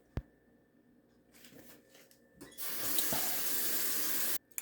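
Water gushes from a kitchen tap for a couple of seconds as hands are washed, a steady hiss with splashing, preceded by faint clicks and handling noise, then shut off abruptly.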